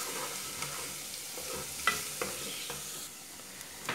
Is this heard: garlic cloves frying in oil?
yes